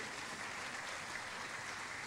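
Congregation applauding in a church service, a steady, even wash of many hands clapping, moderately quiet and continuous throughout with no distinct voices.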